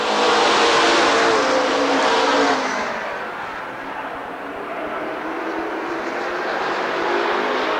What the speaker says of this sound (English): Out of 4, green flag, and we're racing.